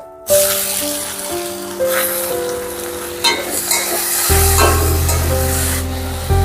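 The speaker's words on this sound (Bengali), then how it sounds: "নেড়ে চেড়ে খুব ভালো করে কচু ফুল ভেজে নেব।" Chopped onions and steamed kochu (taro) flowers sizzle steadily in hot oil as they are stirred in a pan, with a constant frying hiss and occasional scraping and stirring bursts, heard close up.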